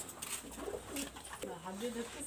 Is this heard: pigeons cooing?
yes